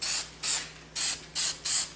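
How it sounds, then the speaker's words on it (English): Five short, evenly spaced hissing bursts of spray paint prime a Nerf gun, each lasting about a quarter second, with brief quiet gaps between them and no voices. "which makes spray painting a lot easier. So I use nice short bursts"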